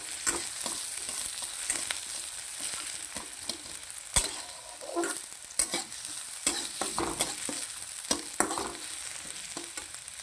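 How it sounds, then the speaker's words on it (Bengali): Chopped onions and cumin seeds fry in oil until brown, giving a continuous close sizzle broken by frequent clacks and scrapes of a spatula stirring the pan, with no talking. "আর পেঁয়াজ কুচি। একটু ব্রাউন কালার করে ভেজে নেব"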